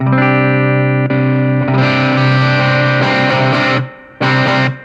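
A distorted electric guitar played through the overdrive channel of a Kazuki ZEN 60R amplifier rings out loud and sustained with chords, drops out briefly near the end, then returns. Nobody speaks.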